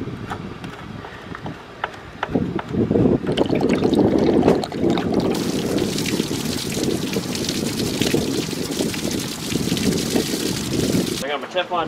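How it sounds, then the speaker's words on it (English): Water gushes and splashes out of a drained RV water heater, a loud, steady rushing hiss that swells after a few seconds and continues before stopping sharply near the end, with some clanks at the start. "So the first thing I got to do is drain this water heater."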